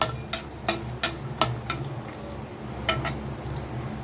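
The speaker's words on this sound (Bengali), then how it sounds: "এখন আমি প্রথমে বড়িগুলো ভেজে নেব বড়িগুলোকে হালকা একটু লাল করে ভেজে নেব" Bori lentil dumplings frying in hot oil in a pan, a close crackling sizzle punctuated by a quick series of sharp stirring scrapes, fairly loud, with no voices.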